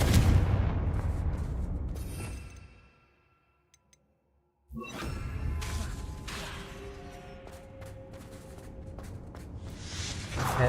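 The Confringo blasting spell going off in Hogwarts Legacy: a loud whooshing blast and rumble that fades to near silence, then a sharp burst of debris and clatter that settles into ongoing ambient noise.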